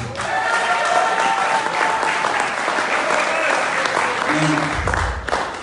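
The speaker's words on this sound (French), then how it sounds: "Applaudissez pour vous-même." Crowd applause at an activists' vigil in Washington DC, a thick sustained roar of clapping from a gathered audience, loud and near, with a voice briefly audible near the end as it tapers.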